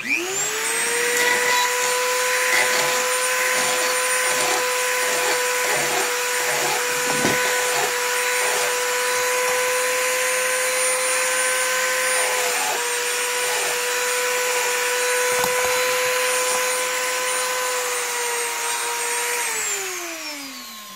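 A steady, loud mechanized whine with a droning tone runs nearly the whole time while metal lock pins are shaped with small hacksaw files, with a few brief knocks, then winds down at the end.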